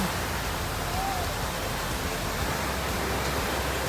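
Hulugan Falls, a waterfall in Luisiana, Laguna, pours as a steady, dense broadband roar that fills the whole stretch without pause, close and loud.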